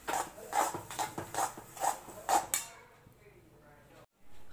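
A spoon scrapes and clinks against a pan as sesame seeds are stirred in for laddus. About six evenly spaced strokes come close and clear, then fade into quiet.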